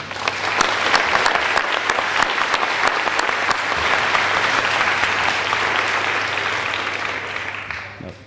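A room of coworkers at an employee celebration event applauds steadily for about eight seconds, dense even clapping that stays loud throughout before tapering off at the very end.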